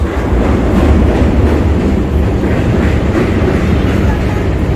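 A Chicago elevated Green Line train rumbles continuously over the Lake Street Bridge, loud and close, with dense rolling noise and faint rhythmic clatter from the metal structure.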